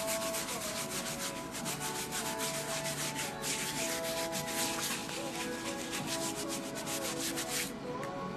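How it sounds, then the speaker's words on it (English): Steady brushing of a brush across Adidas Alexander Wang shoes being cleaned, a continuous rapid rubbing scrub that runs without pause, close and fairly loud with no talking. "I'm gonna scrub this and then save it."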